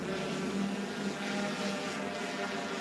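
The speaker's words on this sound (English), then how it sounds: "all we've heard for the last 20 minutes or so is drones buzzing across the skyline, heading into Wandsworth Prison." Drones buzz over Wandsworth Prison at 2:30 in the morning, a steady droning hum with faint tonal whines hanging in the night air, continuous and fairly distant with no talk.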